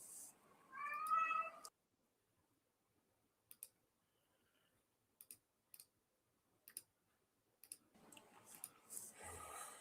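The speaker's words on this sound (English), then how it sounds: "I hear a cat." A cat meows once near the start, a short rising tonal call, followed by a few faint clicks in near silence and then muffled rustling and soft voices toward the end.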